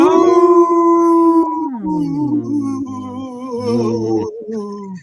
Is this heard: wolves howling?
yes